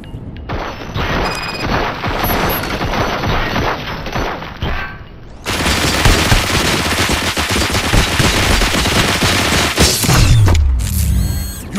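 Gunfire from Robocop: Rogue City roars in long, dense automatic bursts, with a brief lull before an even heavier, sustained barrage and a final heavy boom and mechanical clatter, loud and close.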